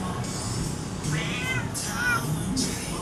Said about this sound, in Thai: น้องเป็นแมวน้องเอาเสียงมาจากไหนอะลูก